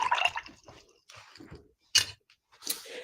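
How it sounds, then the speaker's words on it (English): A paintbrush rinsed in a small water container during wooden ornament painting: a few close, wet swishes and drips separated by short silences, with no talking. "I'm gonna wash my brush."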